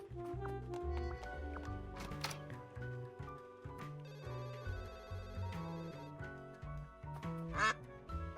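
Cartoon duck quacks in the video game Duck Detective, several short nasal quacks scattered over game music and ringing chime-like tones, moderately loud and close, with no talking.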